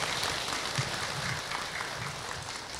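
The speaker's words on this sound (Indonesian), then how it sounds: "tepuk tangan untuk Ahilman" An audience at an Islamic study gathering claps steadily for a few seconds, a dense, even wash of applause that holds throughout.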